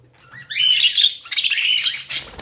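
Rainbow budgerigars squawk and chirp loudly and close, in two busy bursts of shrill, fluttering calls separated by a brief lull, with a final sharp squawk at the end.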